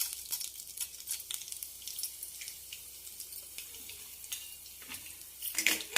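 Coriander seeds frying in hot oil, a soft, steady crackling sizzle with scattered faint pops that grows slightly busier near the end, quiet and close with no talking.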